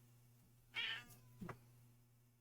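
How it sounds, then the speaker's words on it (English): A cat meowing outside a door, two short meows about half a second apart, faint and muffled over a quiet background hum. "And she's meowing in case you can't hear her."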